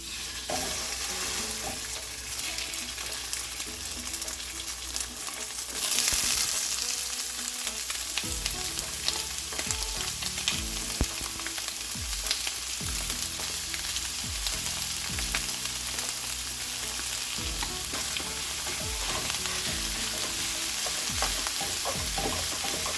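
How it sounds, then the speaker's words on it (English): Mild Italian sausage, garlic and a small white onion sauté in a pan with a continuous close sizzle, punctuated by repeated scraping and stirring strokes, with no voices. "I started by sauteing some mild Johnsonville Italian sausage, some garlic, and a small white onion"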